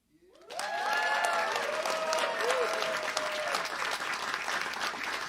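Live jazz concert audience in Glen Ellyn applauding a vocalist's trio, a dense sustained wave of clapping that swells in quickly and holds loud, with faint cheers and a lingering instrument tone as it begins.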